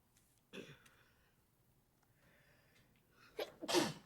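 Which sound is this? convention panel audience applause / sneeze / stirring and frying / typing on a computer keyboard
sneeze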